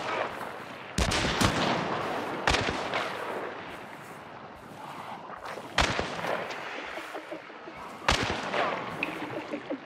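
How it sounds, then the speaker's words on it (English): Repeated gunfire in the video game Hunt: Showdown, with sharp loud shots cracking out at irregular intervals over a constant rumble of game ambience, some close and booming, others more distant. "they're shooting at me, but I don't see them."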